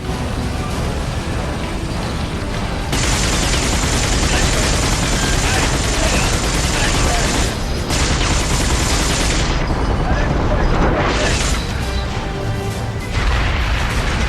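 Sustained turret gunfire from the video game The Darkness, a loud, dense barrage of rapid shots and crashing impacts that runs nearly unbroken from start to finish.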